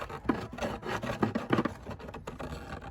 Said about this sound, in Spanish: hace una pequeña marca y le voy marcando hasta darle la vuelta